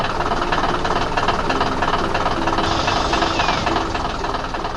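Red tractor in an animated cartoon, driven by a little bear in a hat across freshly tilled farmland; a loud, steady chugging engine rumble runs throughout with a dense, even mechanical texture.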